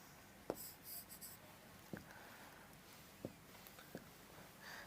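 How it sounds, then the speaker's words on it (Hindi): Chalk or marker writing on a classroom board, quiet scratchy strokes and occasional sharp taps spaced a second or so apart, faint and close, with no talk. "यहां पर एक बात लिख रहा हूं मैं"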